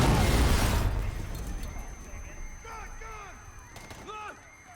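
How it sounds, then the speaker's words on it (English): An explosion in Call of Duty: Modern Warfare (2019) booms loudly at the start and decays into a rumbling tail, with a few chirpy game effects following. "There's going to be an explosion."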